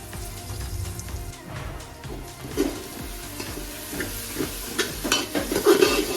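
Green chillies and mint fry in a pan of onions for mutton paya curry, with continuous sizzling and stirring scrapes that swell louder toward the end, and no talking.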